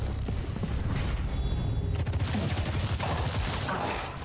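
Rapid gunfire aimed at an arsonist in the video game Showgunners, a dense continuous fusillade of loud shots with booming impacts and mechanical clatter, close and sustained with no talking.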